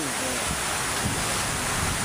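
Heavy rain and wind from Typhoon Kristine in the Philippines make a dense, constant roaring hiss, loud and close, with a faint voice underneath.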